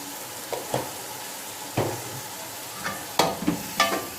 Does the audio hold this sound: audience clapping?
no